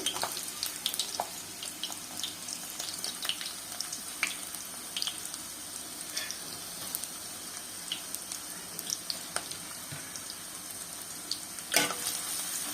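Onion and whole spices (cinnamon, cloves, peppercorns) frying in hot oil in a pan for mutton curry, a steady, close crackling sizzle with faint scattered ticks and clinks throughout.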